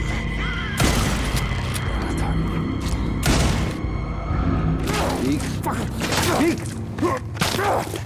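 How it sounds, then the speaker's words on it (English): Loud shotgun blasts echo through a tunnel in Days Gone Remaster, a handful of heavy booms at irregular intervals with ringing tails, mixed with game dialogue and creature cries in between. "the gunfire in the remaster is even worse than the other sounds"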